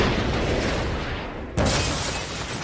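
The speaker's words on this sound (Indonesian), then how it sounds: "mobil itu pun meledak" A car explodes in a film scene: a sustained roaring wash of noise is cut by a sudden loud burst partway through, then continues as a heavy rushing blast.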